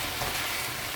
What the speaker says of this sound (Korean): 이렇게 해서 볶아줍니다.